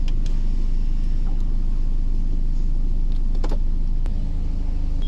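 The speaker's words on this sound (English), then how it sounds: "The car moves like that" A BMW with an automatic gearbox drives along, its steady close engine rumble and road noise droning evenly throughout with no talking.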